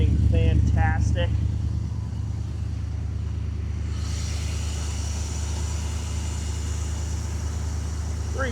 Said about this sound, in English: Listen to this exhaust. This 327 is tuned up and running fantastic.